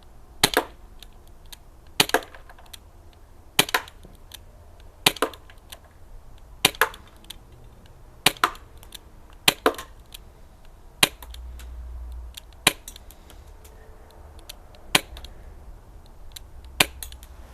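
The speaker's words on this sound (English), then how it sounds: "We're going to load it with another 20 and see if we can make it another 20." A Crosman Mako air rifle firing rounds at a target, sharp snapping shots spaced a second or two apart, clear and fairly close against a quiet background with no talk.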